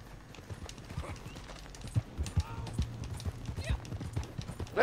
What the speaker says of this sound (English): What is this horse doing here?